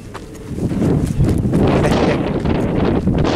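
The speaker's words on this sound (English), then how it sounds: "God, it's windy as hell on here." Strong wind roars and buffets the microphone beside the Tehachapi rail line, building from a rumble into a loud, steady rush with no clear pauses.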